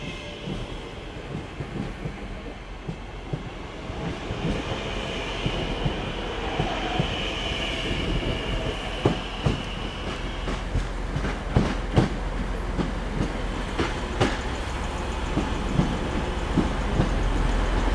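Class 323 electric multiple unit 323225 arriving at Manchester Piccadilly, a loud rolling rumble with repeated wheel clicks over rail joints and brief high squeals as it draws in, no talk.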